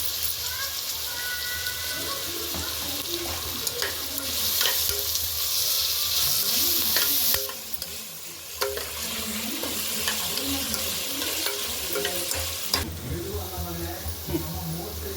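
Onions fry steadily in a pan for an onion-pea pulao, a dense continuous sizzle with spatula stirring and scraping throughout, loud and close, and a brief dip partway through.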